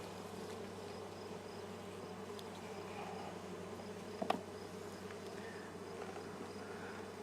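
Honeybees buzz in a faint, steady drone at a hive during an autumn inspection, with one brief sharp knock near the end.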